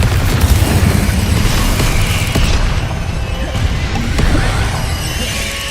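Confringo fire spells detonate in a Hogwarts Legacy duel, producing loud booming explosions and crackling bursts amid constant combat noise, with spell names called out intermittently.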